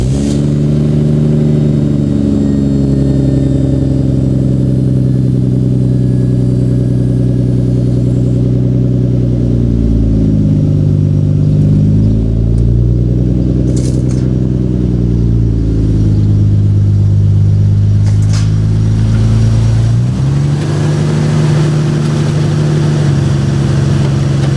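A Nissan Skyline R34 GTR engine revs steadily and loudly for the whole stretch, pitch rising and falling through several throttle blips over a constant idle-like drone, with no talk.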